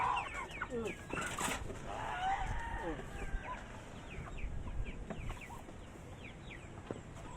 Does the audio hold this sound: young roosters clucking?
yes